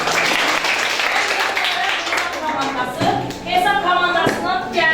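A fourth-grade class breaks into dense applause during a maths lesson, the clapping close and continuous while voices talk over it.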